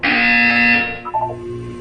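A loud electronic buzzer in the video game Portal 2 sounds steadily for about three-quarters of a second, then cuts off, leaving a few faint blips and a low background hum.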